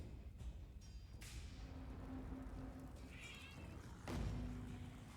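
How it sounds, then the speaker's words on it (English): Cat meows in the background of a quiet room, a few faint drawn-out cries with a soft thud near the end. "If you can hear that cat"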